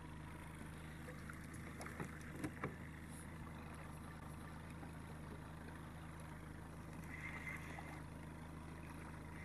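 A small boat motor runs steadily while trolling for lake trout on Cayuga Lake, a low, even engine hum with water lapping against the hull and a few light knocks.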